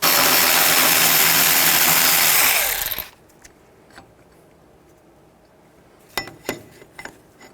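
Power tool with a 15mm socket removing three bolts from the back side of a front wheel hub on a 2002-06 Chevy Avalanche, a loud steady whir for about three seconds that cuts off, followed by a few light metallic clinks.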